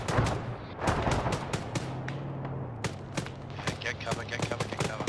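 Helicopter machine-gun fire in the video game Arma, with bursts of sharp rapid shots across the whole clip, loud and close, over a low engine drone and mixed with other battlefield gunfire.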